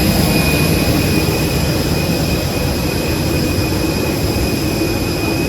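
Jet engines roar loudly and steadily inside a crowded airliner cabin on a Hyderabad to Chennai flight, a constant broadband rumble with a thin high whine running over it.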